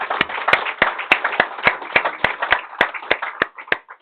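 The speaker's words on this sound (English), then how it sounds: "give a standing ovation to the learned speaker" Audience at a lecture meeting on cyber crime gives applause, heard as sharp, distinct claps in a steady rhythm of roughly three or four per second, close and loud, without any voices.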